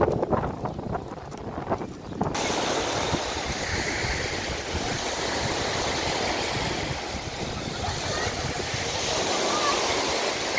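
Ocean waves wash steadily onto Playa Norte beach in Gandía under a warm breeze, a continuous surf roar with wind buffeting the microphone, briefly rougher at the start.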